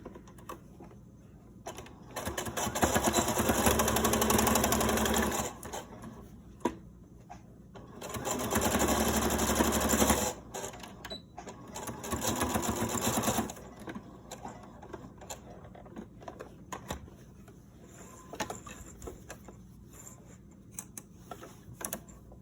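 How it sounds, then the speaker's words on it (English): A sewing machine stitches a seam in fabric for a grocery bag holder, whirring in three fast bursts of several seconds each, then a run of lighter intermittent stitching, close and loud with no talk. "We will be sewing our second pass over here."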